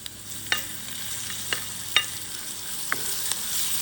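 Sliced onions and chillies frying in hot oil, a steady bright sizzle with a few sharp clinks of a stirring spoon against the pan, close and with no talking.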